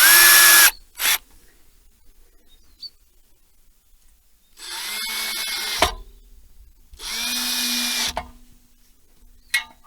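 A power drill drives screws into boards in three bursts that rev up loudly at close range, each a second or more long, with quiet gaps and a few small knocks in between.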